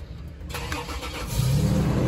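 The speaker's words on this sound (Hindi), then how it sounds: "चलें वर्स गाड़ी को स्टार्ट कर लेते हैं।" A Toyota Land Cruiser Prado, fully modified with a bull bar and off-road tyres, starts up: a brief crank after a quiet moment, then a heavy, deep engine rumble settling into a steady idle close by.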